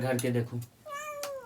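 A cat meows loudly and close by in a drawn-out, tonal call after a person speaks briefly, with the voice and the meow following one another.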